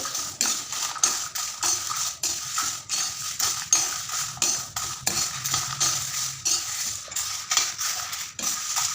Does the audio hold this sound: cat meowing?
no